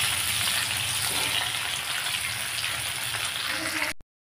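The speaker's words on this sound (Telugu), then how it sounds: "తాలింపు, ఆనియన్స్ అన్నీ వేగుతూ ఉన్నాయి కదా" Onions and tempering spices frying in hot oil for a spicy green chicken fry, a dense steady sizzle that holds loud and even for about four seconds before cutting off abruptly.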